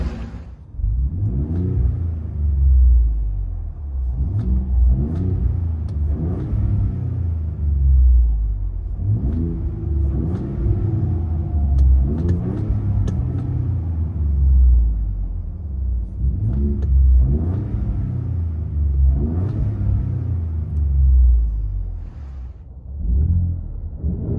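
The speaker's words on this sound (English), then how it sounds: "Ford Raptor with Borla ProXS." A Ford Raptor's 3.5L EcoBoost V6 with a Borla ProXS exhaust, heard from inside the cab: a deep, muffled rumble that swells and eases in repeated revs and gear pulls over about twenty seconds, steady and enclosed, with no talking.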